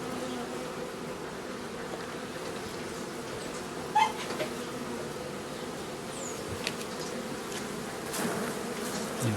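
A honey bee swarm inside a bait trap, a dense steady buzzing drone heard close up, with a few faint knocks over the constant hum.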